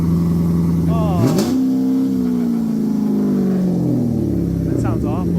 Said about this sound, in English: It sounded like an old pickup truck with a massive exhaust leak.